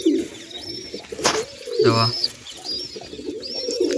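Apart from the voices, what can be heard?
pigeons cooing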